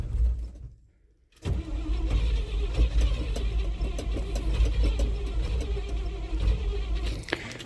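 Flatfender Jeep engine on a cold start cranks briefly, pauses, then catches and runs rough and uneven with a low rumble before a sharp click near the end, no talk.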